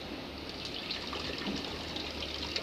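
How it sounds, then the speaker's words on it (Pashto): Plain water pours steadily into a blender jug while green chutney is being made, a soft continuous trickling splash with no talk. "معمولي اوبه به ور واچئ"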